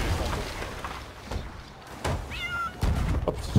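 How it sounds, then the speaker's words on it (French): A cat meows once in a video game, a short, rising-then-falling cry heard between dull thuds and clatter from the game action. "le chat qui fait un miaou"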